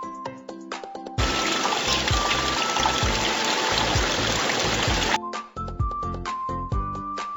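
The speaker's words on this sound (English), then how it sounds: "Rinse the foam off." Tap water runs steadily while soap foam is rinsed off hands, a loud continuous splashing gush that starts abruptly and stops after about four seconds, with soft music before and after.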